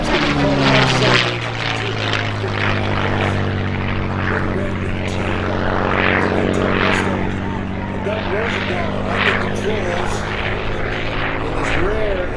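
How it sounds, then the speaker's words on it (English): A P-51 Mustang flies at the Sun 'n Fun airshow in Florida, its propeller engine giving a loud, sustained growling drone that swells and shifts as it passes, with an announcer talking over it. "This now dropping down into that setting sun. A beautiful P-51"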